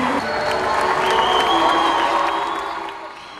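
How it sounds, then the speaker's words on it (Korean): Attendees at a World Camp opening ceremony in Bolivia cheer and applaud enthusiastically, a dense roar of clapping and shouts with whoops rising throughout and tapering off near the end. "자니네 아니에스 대통령과 박옥수 목사를 열렬히 환호하며 반기는 월드캠프 참석자들의 박수가 이어지고"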